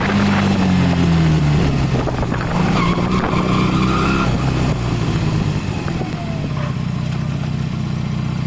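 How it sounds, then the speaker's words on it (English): A Honda CB250 motorcycle engine runs loud and steady, its pitch rising and shifting as it works up through the gears, with road and wind roar underneath throughout. "Bike's running very well. Now I'll go up through the gears."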